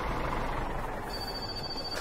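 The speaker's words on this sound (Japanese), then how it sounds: "電話かかってきてる" Telephone ringing in the video game My Summer Car, a thin electronic ring rising over a steady, dense background hum of in-game ambience, with no talking.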